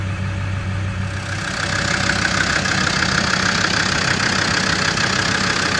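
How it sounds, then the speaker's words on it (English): A 2007 Land Rover Defender 110 double cab with a TD5 diesel engine idles close by, a loud, steady clattering rumble that settles and holds even throughout. "Settles down to a nice idle,"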